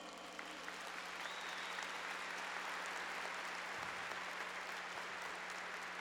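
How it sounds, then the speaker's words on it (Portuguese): Church congregation at a Catholic Mass applauding steadily, a dense and sustained clapping that fills the space with no voice over it. "Vamos aplaudi-los?"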